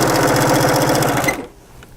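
A sewing machine stitches a rag quilt up close in a fast, steady, loud rattling run for over a second, then stops abruptly, leaving near-quiet.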